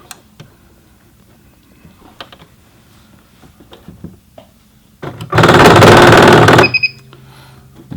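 A Singer Heavy Duty 6800C sewing machine's motor strains and grunts for about a second and a half, a loud close buzzing burst that follows faint taps and clicks and then cuts off into a low hum.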